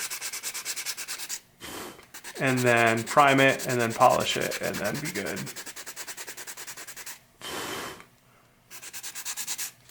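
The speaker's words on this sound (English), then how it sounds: "So I'll hopefully just do this bit of sanding" Steady rhythmic hand sanding of spot putty on an old car part scrapes back and forth close by, pausing briefly, while a person talks over part of it.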